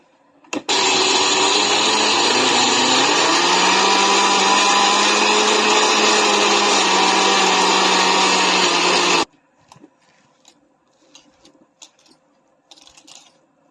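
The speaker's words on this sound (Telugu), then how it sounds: "ఇప్పుడైతే నేను మిక్సీ పడుతున్నా" A mixer grinder grinding corn for vadas starts abruptly and roars loudly at a steady whine for about eight seconds, then cuts off, leaving faint clicks and light handling noises.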